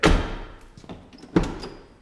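Door of a 2003 Ford Explorer swinging shut after its hinges were lubricated, giving two solid close thunks with a quiet pause between them.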